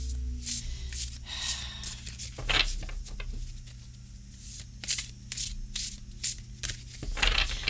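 An oversized tarot deck is shuffled by hand, giving repeated soft bursts of card flutter and slapping at close range, with brief pauses between passes.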